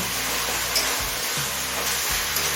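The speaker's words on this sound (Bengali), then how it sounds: "এবারে সমস্ত মশলার কাঁচা গন্ধে চলে যাওয়া পর্যন্ত কষিয়ে নেব" Spices being sautéed in a pan for a jackfruit chicken curry give a steady, soft sizzle with occasional stirring scrapes, close and continuous, no voices.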